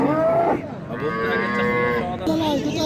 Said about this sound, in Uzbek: Mana sigir chiroyli